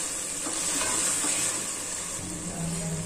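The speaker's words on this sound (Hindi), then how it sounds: "फिर भूनेंगे अच्छी तरह से।" Chicken karahi is stir-fried in a wok. A steady, fairly quiet sizzle runs throughout, with soft stirring scrapes close by and no talking.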